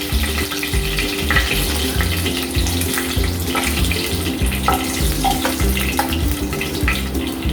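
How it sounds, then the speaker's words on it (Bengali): Poppy seeds fry hard in a pan, giving a dense, continuous sizzling hiss over a pulsing low rumble that runs unbroken throughout, with no voices. "পোস্তটা ভালো হয় না, একটু বেশ কড়া করেই ভাজতে হয়"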